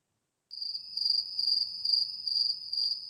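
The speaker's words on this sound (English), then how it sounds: "First there was the crickets" Crickets chirping steadily at night, a bright high trill pulsing in regular bursts, fairly close and alone with no other sounds.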